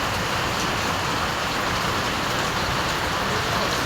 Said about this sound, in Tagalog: umina na rin yung ulan